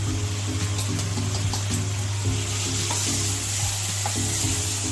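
Grated coconut is stirred into a sizzling mashed banana flower bhorta in the pan, giving a continuous close sizzle with repeated stirring scrapes over a steady low hum, without talk.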